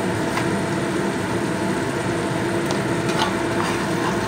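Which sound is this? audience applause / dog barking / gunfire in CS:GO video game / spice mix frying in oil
spice mix frying in oil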